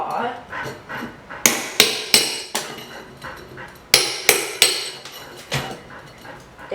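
Hammer striking a pry bar to drive its claw under carpet tack strip nails, a series of sharp ringing metal blows in uneven clusters, close and loud, with a dog barking faintly.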